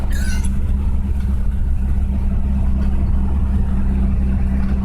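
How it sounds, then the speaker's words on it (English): A Saab Sonett's engine runs loudly and steadily at close range, a heavy constant drone that stays level throughout, with no voices over it. "I'm yelling over the motor."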